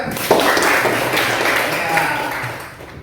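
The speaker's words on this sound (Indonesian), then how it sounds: "tepuk tangan buat kita" Classroom applause during a teaching practice session, a dense, steady patter of many hands clapping close by, holding for about three seconds before easing off slightly.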